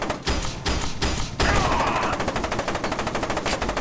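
Rapid mechanical firing of a nail gun in the shooter game F.E.A.R. 2, a fast rattling burst of repeated shots that grows louder and denser midway, mixed with game combat noise.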